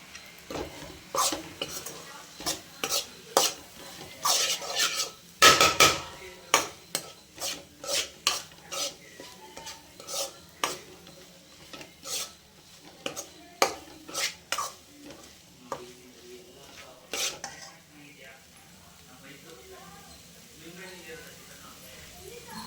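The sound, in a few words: stirring and frying mutton gravy in a pan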